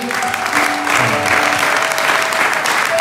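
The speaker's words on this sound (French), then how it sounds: "Est-ce qu'on peut acclamer pour le Seigneur?" A church congregation at a special Sunday thanksgiving service breaks into loud, steady applause, many hands clapping together close by with a faint voice mixed in.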